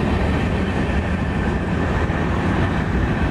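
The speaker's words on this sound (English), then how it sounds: "the train just finished going by" A train rumbles past at close range, a loud, steady, broadband roar with faint clickety-clack that fills the whole stretch with no talking.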